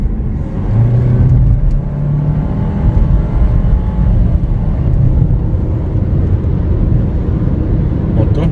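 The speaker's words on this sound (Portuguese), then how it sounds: "Vamos acelerar aqui o Captur para vocês sentirem o novo motor" Renault Captur 1.3 TCe SUV engine accelerating from inside the cabin, a steady, loud low drone with a rising whine, continuous throughout with no talk.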